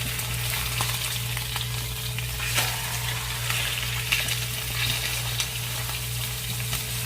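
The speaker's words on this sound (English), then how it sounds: "You can brown and sear both sides of the roast" A beef roast sears in a hot pot, giving a steady, dense sizzle and crackle that holds at an even level throughout with no voices over it.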